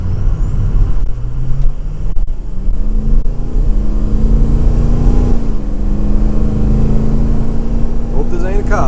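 A 6.0 liter Powerstroke diesel truck with its catalytic converter removed and upgraded exhaust accelerates hard from inside the cab, its loud droning engine note climbing steadily through the gears.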